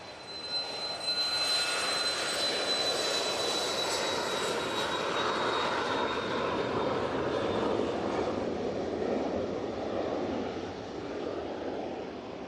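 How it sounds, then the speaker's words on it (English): Jet airliners rumble at Manchester Airport, with several planes out on the apron. A loud, steady engine roar with a thin high whine runs across the whole span and swells gently toward the middle. "We have a fair few planes out at the moment."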